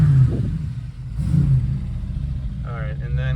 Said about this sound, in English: give you a few revs.